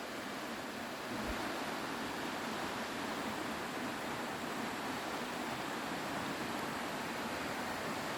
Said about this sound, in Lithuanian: Ir čia turim visą nuplaunančią vandens tėkmę.